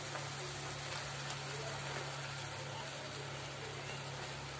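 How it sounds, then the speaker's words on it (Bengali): Ground coriander, turmeric and Kashmiri red chilli powder fry in oil in a pan for a potato curry, giving a soft, even hiss and crackle that runs on without pause at a low level. "যতক্ষণ না তেল ছাড়ছে ততক্ষণ আমি এটাকে ভালো করে কষিয়ে নেব।"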